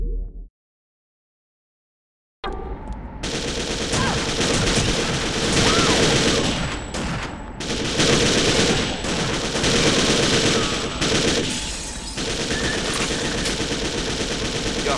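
Sustained machine gun fire in the video game Second Sight, loud dense bursts rattling continuously after a brief silence, with short gaps between volleys and a few heavier booms mixed in.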